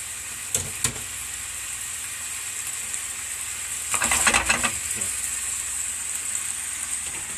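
Hot sausage and pork frying in a pan, a steady sizzle with a few sharp knocks early and a louder burst of spitting and stirring midway.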